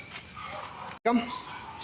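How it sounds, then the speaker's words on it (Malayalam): German Shepherd puppy giving short whimpers and yips close by, with a brief gap before a sharper bark-like burst, over steady background noise. "ജർമ്മൻ ഷെപ്പേർഡ് ഇനത്തിൽപ്പെട്ട ഒരു നായ്ക്കുട്ടിയാണ്."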